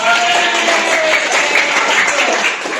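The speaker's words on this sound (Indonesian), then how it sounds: "Tepuk tangan Pak Islam." A classroom of students applauds in a dense, steady patter of many hands clapping together, filling the whole short stretch at an even, fairly close level.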